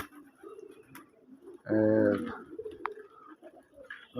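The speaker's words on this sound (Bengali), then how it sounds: "দেখেন আমি কয় জোড়া কবুতর বিক্রি করুন।" Pigeons coo in a loose, low rolling burst in the middle, moderately close, with faint background sounds and scattered voices around.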